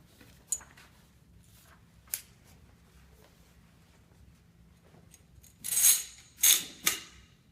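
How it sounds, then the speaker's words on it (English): Metal parts of an M4 carbine click and scrape as the action spring and buffer are slid into the receiver extension: a few sharp isolated clicks, then a cluster of louder sliding, springy clacks near the end. "You will then insert the action spring and buffer."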